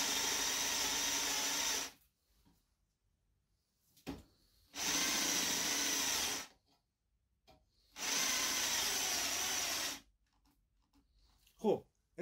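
A cordless drill whirs into wood in three loud, steady bursts of about two seconds each, separated by quiet pauses with faint knocks.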